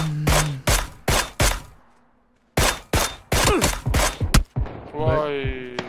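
Gunfire in PUBG aimed at a tree: a run of loud, sharp shots spaced in quick bursts with a short gap of quiet, close and punchy, followed by a voice talking at the end.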